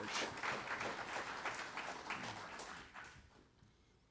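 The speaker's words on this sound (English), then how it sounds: "So just a big round of applause to everyone" Summit audience applauding for efforts to protect Lake George, a soft spread of clapping from many hands that thins out and fades over a few seconds.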